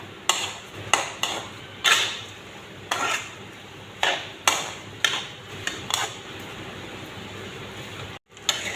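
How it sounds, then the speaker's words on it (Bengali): A spatula stirs rice with meat and potatoes in a pot, making roughly a dozen rhythmic scraping, clattering strokes over a faint frying hiss, near and fairly loud. "এখন চালগুলো ভালো করে ভেজে নেব মাংসর আর আলুর সঙ্গে"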